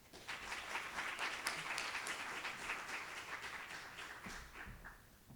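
Audience applause greeting a speaker at a leadership conference at Catholic University, steady clapping from a crowd throughout, tapering slightly near the end.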